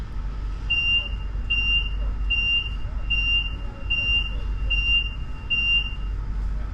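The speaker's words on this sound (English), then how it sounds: "Should an incident be detected in your carriage, the following alarm will sound." A carriage incident alarm aboard a Le Shuttle train sounds as a steady series of about eight short, evenly spaced high electronic beeps over a low rumble of the moving train.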